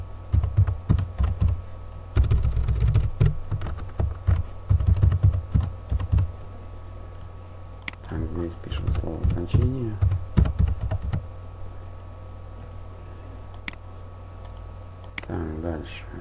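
Typing on a computer keyboard into a spreadsheet: bursts of quick, close key clicks come and go, while someone speaks in between and over the typing.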